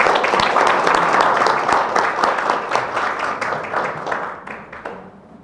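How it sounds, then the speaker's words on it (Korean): An audience at a Korean intellectual property policy forum applauds a university professor, many hands clapping briskly at first, then thinning and fading out toward the end. "교수님께 박수 한번 부탁드리겠습니다"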